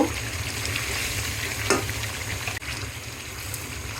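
Fish curry with cauliflower, beans and potatoes sizzles in a pan as it is stirred, a constant frying hiss with a few louder scrapes of the spoon.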